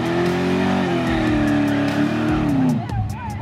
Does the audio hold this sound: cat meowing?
no